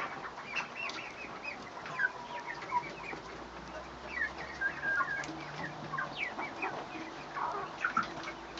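Several chickens cluck and murmur in short, irregular bursts, fairly quiet and at a little distance, with no talking.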